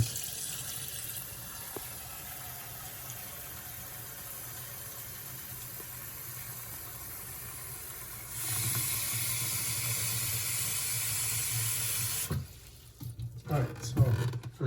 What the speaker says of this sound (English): first thing I do is I filter my water